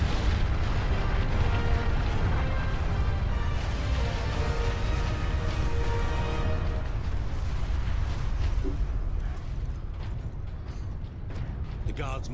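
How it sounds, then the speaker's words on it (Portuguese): A loud, rumbling explosion in the video game Warhammer 40k: Space Marine, a sustained booming roar with mechanical clatter that eases off toward the end, with speech underneath. "eu quero ver a explosão"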